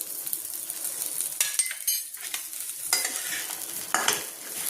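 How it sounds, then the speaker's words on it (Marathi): Brinjal pieces fry in oil with salt, a soft steady sizzle under repeated scraping and stirring strokes of a spatula against the pan, close and fairly quiet with no talk. "आता हे वांगे थोडेसे तेलामध्ये भाजून घेते."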